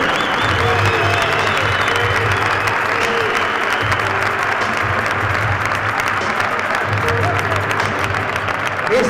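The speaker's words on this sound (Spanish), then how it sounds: "vamos a darles un aplauso, pero importantísimo" A crowd at a boxing event in Sestao claps for young boxers, giving steady sustained applause while a low hum and some voices run underneath.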